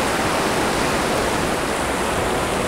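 A river flows steadily past a village in Lahat, a loud, unbroken rushing wash of water with no pauses.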